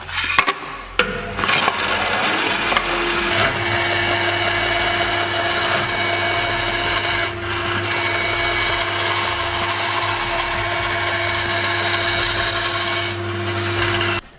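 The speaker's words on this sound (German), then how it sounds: "jetzt säge ich an der Bandsäge das hier weg grob" A band saw roughly cutting a wooden board for a breakfast board, a continuous whirring motor hum with steady rasping cut noise throughout, starting and stopping briefly near the start and around the middle.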